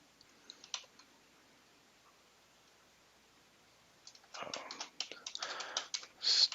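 Typing on a computer keyboard, a couple of isolated clicks followed after a pause by a brisk, close burst of keystrokes.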